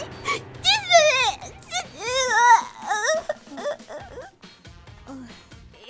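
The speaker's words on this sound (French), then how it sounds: "Ne pleure pas, d'accord?" A young girl cries in sobbing, wavering wails that rise and fall across several seconds, close and fairly loud, fading to softer whimpers toward the end.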